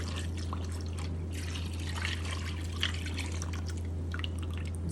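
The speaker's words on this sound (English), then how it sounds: "this is a quart of whole milk. Put the whole quart in here." A quart of whole milk pours into a crockpot with a soft, steady liquid trickle and splash over a constant low electrical hum, fairly quiet and close.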